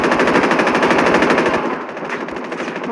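Rapid automatic gunfire from a video game shooter, a loud, sustained stream of closely spaced shots for about a second and a half, then choppier, slightly quieter bursts continuing to the end.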